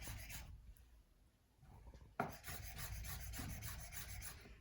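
A kitchen knife roughly cutting leftover pantry and fridge ingredients, heard as close, steady rasping strokes that grow denser and louder partway through, with no voices.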